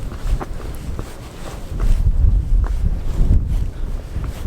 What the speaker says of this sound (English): the wind has picked up and now it's really cold on my back